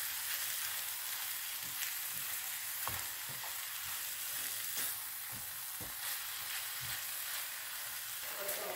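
Minced meat with parsley and coriander browning in a pan, a steady dense sizzle with scattered stirring clicks and scrapes close by, no talking.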